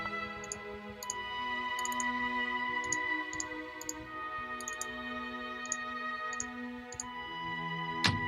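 Mouse double-clicks on a computer while activating menu items in a game-building tutorial, heard as several small, crisp click pairs spaced through the clip over a steady background hum, with no talking.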